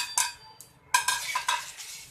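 Whole spices (bay leaf, cinnamon, cloves, cardamom, nutmeg and sesame seeds) dry roasting in a pan, with a few sharp scraping stirs and rattles close by, separated by brief pauses and no talk.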